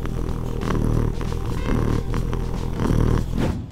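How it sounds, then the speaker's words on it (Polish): A contented cat purrs close and loud in a steady, continuous rumble that swells and eases in slow breathing cycles, with no voices over it. "Koty mruczą z różnych powodów, ale najczęściej wtedy, gdy są zadowolone."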